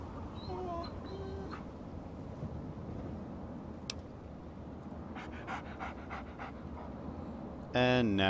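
The dog companion Dogmeat panting in the video game Fallout 3, quick rhythmic breaths running under game ambience, with short electronic chirps and a louder burst of game sound near the end.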